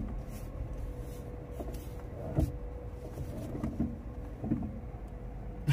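A DFSK Seres E1 electric car being driven gives off a steady low tire rumble on the road, heard from inside the cabin, with a few soft knocks and bumps along the way.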